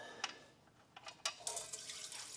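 Hot engine oil draining from the pan of a 2016-2023 Toyota Tacoma V6 3.5L after the drain bolt is removed, a steady splashing, pouring stream with a few sharper spatters, close and fairly quiet.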